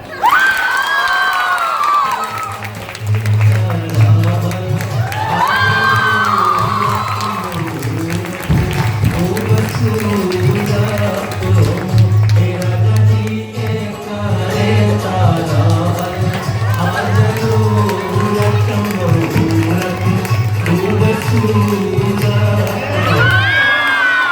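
Crowd at a nursing college farewell party in Akbarpur, Ambedkar Nagar applauding and cheering to welcome a guest, with shouts and whoops rising over steady clapping and a loud PA hum throughout, lasting the whole stretch.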